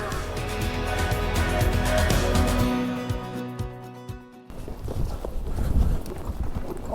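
A ridden racehorse, Native River, walks along with rhythmic clip-clopping hooves, close and fairly loud, with a brief quieter lull midway and no talk.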